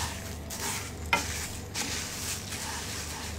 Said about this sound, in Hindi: अब हम इसको मीडियम फ्लेम पे भून लेंगे,